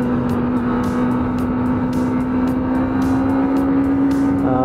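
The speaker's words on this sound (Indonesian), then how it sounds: "Raungan mesinnya." Kawasaki ZX25R motorcycle engine roaring steadily up close during a ride, a sustained high-pitched drone with a firm tone under continuous wind rush, without any pause.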